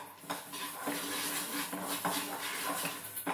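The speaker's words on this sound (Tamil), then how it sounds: "வானிலை அடுப்பில் வச்சுட்டு எண்ணெய் விடக்கூடாதுங்க, வெறும் வானிலையில் தான் வறுக்கணும்." Horse gram being dry-roasted in a pan without oil, with steady scraping and clinking of a utensil against the pan throughout and light rattling of the grains as they are stirred.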